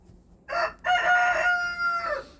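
A hen inside an unheated aviary pen gives a short close call, then a longer, loud, drawn-out tonal squawk lasting about a second, with no talking.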